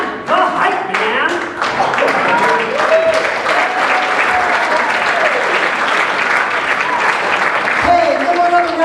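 Loud, full audience applause fills a magic show hall for nearly nine seconds, dense continuous clapping with cheers and voices rising through it.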